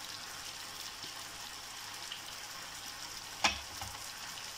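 Chicken stew frying in a pan as soy sauce is poured in, a steady faint sizzle with one brief louder splash or spatter near the end.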